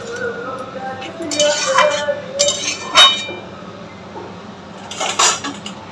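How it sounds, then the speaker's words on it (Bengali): Potatoes cooking with spices in a covered pot for aloo dum, with scattered clinks of a spoon and lid against the pot and a soft sizzle under a continuous low background hum. "এইভাবেই ঢাকা দিয়ে দিয়ে কষাতে থাকবো"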